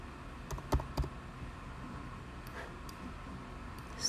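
A computer keyboard is tapped in a few scattered faint clicks, a small cluster near the start and a couple more later, quiet and close over a soft room hiss.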